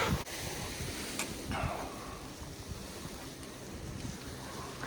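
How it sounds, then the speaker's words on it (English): Strong, steady wind roars and buffets across the whole stretch, with low rumbling gusts and no voices. "This is really, really super duper windy"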